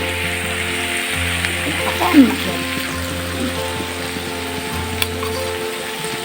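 Onions frying in a pan for prawn malai curry: a soft, steady sizzle beneath a low background hum, with a brief clatter near the middle and a sharp tick later.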